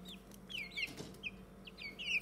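Young chicks inside a chicken house chirp in short, rising peeps, several overlapping close by, with soft clucking and a low background hum.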